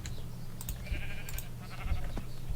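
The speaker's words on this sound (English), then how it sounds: "I was hoping the sheep would drop mutton" Sheep bleating in a survival video game, several short bleats heard close over a steady low background hum, no talking.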